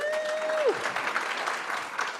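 An audience at an inclusive education keynote claps together in a dense, steady burst of applause lasting a couple of seconds, with a brief electronic tone sliding down at the start.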